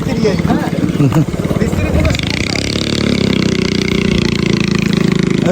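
A boat engine runs steadily close by, a low droning throb, with people talking loudly over it during the first couple of seconds.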